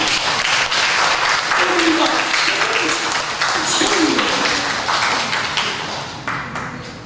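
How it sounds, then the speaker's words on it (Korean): Congregation clapping during a Sunday church service, a dense, steady wash of applause lasting several seconds and fading slightly toward the end, with voices faintly mixed in. "우리 박수 한번 합시다."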